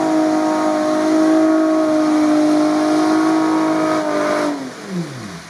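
An off-road car with its differential locks engaged revs hard on a rough tank road, the engine note climbing and holding loud and close before dropping away sharply near the end.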